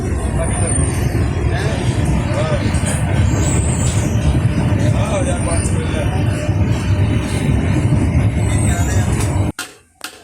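A train runs with a steady, loud rumbling roar and clatter, with voices murmuring underneath, then the sound cuts off abruptly near the end.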